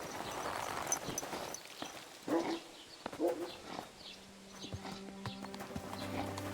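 Horse hooves clip-clop along in Kingdom Come: Deliverance 2, a medieval video game, as a series of moderately loud hoofbeats over ambient game sound, with a faint musical tone toward the end.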